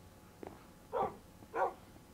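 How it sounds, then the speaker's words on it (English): A tamed wolf dog in the Minecraft Wii U edition gives two short, whimpering yelps after being struck, about half a second apart, fairly faint and alone. "I hit one of my dogs on accident."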